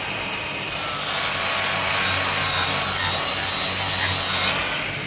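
Steel weld test plate being cleaned with a power tool: a loud, steady abrasive grinding hiss that starts abruptly, runs for about four seconds and then stops, with no talk.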